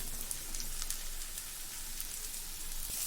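Onions fry in hot oil in a pan with a steady, close, hissing sizzle and scattered soft pops, with no talk.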